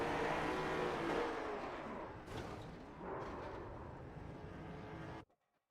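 Late model stock cars roar together on the Irwindale track in a loud, dense wall of engine noise that swells and dips for about five seconds before cutting off abruptly into near silence.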